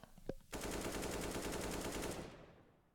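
After a short click, a rapid automatic weapon spray in Counter-Strike: Global Offensive rattles loudly for about two seconds, then its echo fades away.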